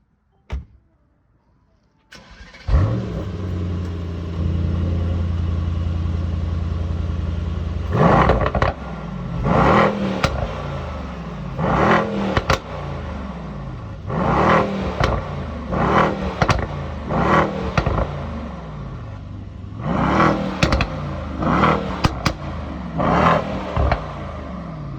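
A 2017 Mercedes-AMG E63 S V8 without a petrol particulate filter cranks and fires into a loud, deep idle, then gives a series of sharp throttle blips, each rising to a roaring rev and dropping back, close and unaccompanied by talk.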